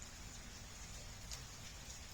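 Steady rain falling outdoors, a soft, even hiss of drops that holds without a break for the whole stretch, with no voices over it.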